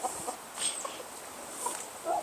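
Chickens cluck softly near a backyard chicken coop surrounded by flower beds, a few faint, scattered calls over quiet outdoor background.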